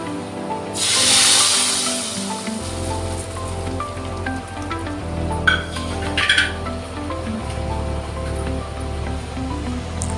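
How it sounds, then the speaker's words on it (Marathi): A sudden loud burst of sizzling as hot spiced-oil tempering is poured onto finger millet khichdi. It settles into a quieter crackle with a few light clinks. "ही फोडणी आता आपण आपल्या खिचडीवर टाकूया."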